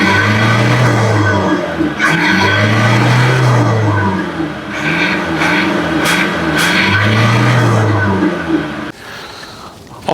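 A Mazda CX-3 diesel engine drones steadily at close range while the car accelerates, its low rumble swelling in repeated surges before fading near the end.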